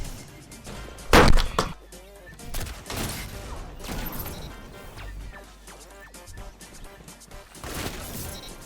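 A new raid hand cannon fires in a shooter video game, sounding like heavy 50-caliber rounds: several loud, booming single shots spaced a few seconds apart, with a voice talking between them.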